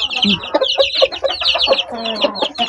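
Several farmyard chickens cluck in quick, overlapping bursts, close and loud, with a continuous busy chatter of calls and no clear talking.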